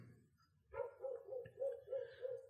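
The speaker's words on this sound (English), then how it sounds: "There's a dog barking outside." A dog barks outside in a quick run of about six yapping barks, faint and distant, heard alone with a low background hum.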